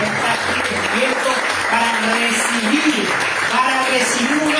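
A church congregation applauds loudly and steadily for the whole stretch, a dense continuous wash of clapping with voices faintly mixed in.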